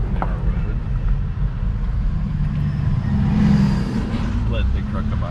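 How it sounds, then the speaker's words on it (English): A big truck rolls past on a super narrow road near the Dennis Cove campground in Tennessee, a steady low engine rumble that swells as it draws near, with a person talking over it. "Let the big truck come by."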